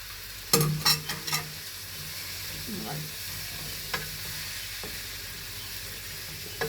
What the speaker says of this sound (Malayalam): ഞാൻ പൊടിയരിഞ്ഞ് ചീവക്കിഴങ്ങ് അതായത് കൂർക്ക ഞാൻ ഇങ്ങോട്ട് ഇടുവാണ്.